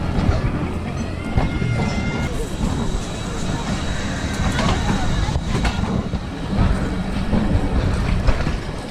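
The Awam Express passenger train rolls along the rails on its way toward Gujar Khan, giving a steady, loud rumble with faint clattering from inside the carriage while someone talks over it.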